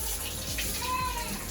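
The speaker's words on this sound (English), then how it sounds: "So I just get the water nice and warm." Warm water runs steadily from a tap to wash a toddler's hair, a continuous close splashing hiss with faint squeaky tones, no voices.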